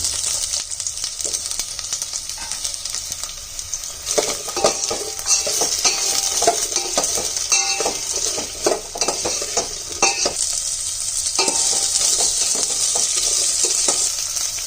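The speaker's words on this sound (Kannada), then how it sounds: "ಎಣ್ಣೆಯಲ್ಲಿ ಚೆನ್ನಾಗಿ ಫ್ರೈ ಮಾಡ್ಕೋಬೇಕು." Drumstick pieces frying in oil for sambar, a continuous bright sizzle with frequent spoon scrapes and stirring taps against the pan, close and fairly loud throughout.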